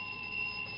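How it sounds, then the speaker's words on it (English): A burglar alarm rings in a steady, unbroken electronic tone, held at an even level throughout with no voices. "We heard the alarm."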